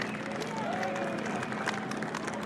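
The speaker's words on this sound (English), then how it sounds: "let's give them a round of applause for what they do and how hard they work" Crowd applause at a drag strip, a steady wash of clapping and scattered cheers lasting throughout, with faint voices mixed underneath.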